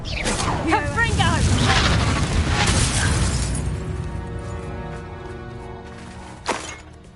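A Confringo fire spell goes off in the Hogwarts Legacy video game, a loud booming burst with crackling debris that decays over several seconds. Near the end comes a short sharp impact.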